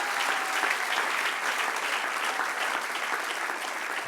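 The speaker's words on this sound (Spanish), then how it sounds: "Dale un aplauso al que reina." Church congregation applauding during a sermon, a full, steady burst of clapping from many hands in the sanctuary that holds evenly through the moment with no speech over it.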